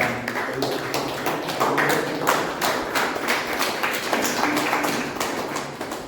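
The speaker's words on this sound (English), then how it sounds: "a big round of applause for all the TFODs" Steady applause from a Toastmasters meeting audience, a dense patter of many hands clapping, moderately faint, lasting about six seconds without pause.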